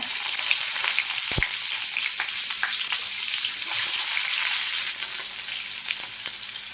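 Cumin and onion fry in hot oil with a loud, close crackling sizzle, and a few sharp spoon knocks and scrapes land over it as the pan is stirred.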